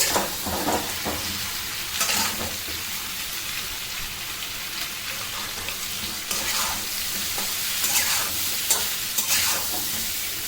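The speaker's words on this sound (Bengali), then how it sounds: "আমি এই যে চিকেনের পিসগুলো দিয়ে দিলাম দিয়ে নাড়বো একটু" Chicken pieces stirred with fried onions in a hot pan: a loud, steady sizzle with scraping spatula strokes recurring every second or two.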